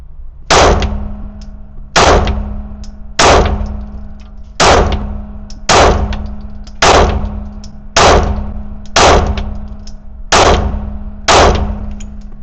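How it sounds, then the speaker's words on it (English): Ten loud, sharp Glock pistol shots fired one at a time at a slow, steady pace of about one every 1.2 seconds, each with a metallic ring and short echo, no talking. "That first shot I anticipated, but after that, that felt so good."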